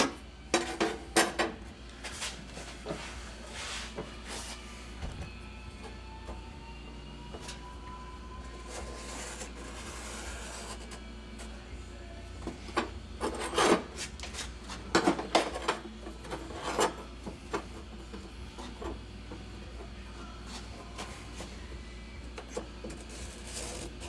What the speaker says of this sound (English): What I'm going to do is cut right on that flange.